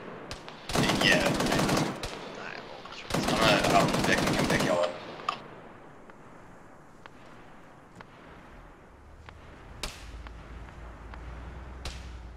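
Bursts of automatic gunfire in a military video game, two loud sustained volleys followed by scattered distant single shots under quiet voices.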